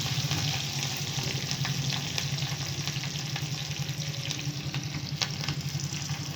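Cumin and mustard seeds sizzle in hot oil as a tempering for curd rice, a dense, steady crackling fry with faint stirring, close and continuous with no talk.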